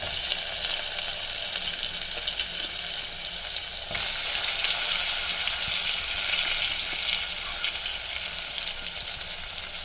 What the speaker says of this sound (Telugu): ఒక స్పూన్ అల్లం వెల్లుల్లి పేస్ట్, తర్వాత ఉల్లిగడ్డలు వేయాలి